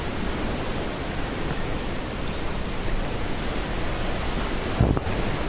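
A flash flood in Nepal roars past, carrying a large boulder in its churning water, with a dense, steady rushing wash that never lets up and one brief louder thump near the end.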